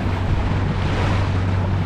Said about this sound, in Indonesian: Menaiki perahu.